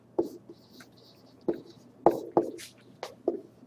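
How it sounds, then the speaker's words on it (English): Pen marks on paper as an answer is written out, a series of separate scratchy strokes and taps at an uneven pace, close and clear, with no voice. "So the interpretation of this, I'll write in red."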